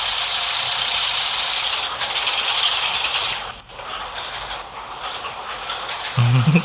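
A train in a private-server co-op video game runs with a steady hissing, rushing engine noise that dips briefly midway before a low thump near the end.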